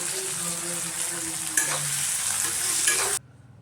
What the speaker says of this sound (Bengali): টমেটো কুচি দিয়ে আবারও ভেজে নেব।